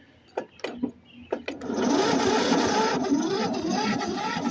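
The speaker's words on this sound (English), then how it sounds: "I'm gonna turn it to the highest amperage, which should start the mower." A lawn mower engine is started with an electric starter set to its highest amperage: a few short cranking bursts, then the engine catches and runs at a steady, loud roar close by.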